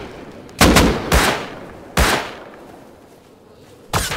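Video game gunfire: four sharp, loud shots spaced irregularly, two close together early, another a second later, and a last one after a pause, each with a short echoing tail, no talk.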